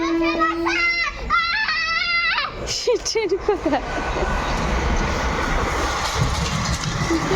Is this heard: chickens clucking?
no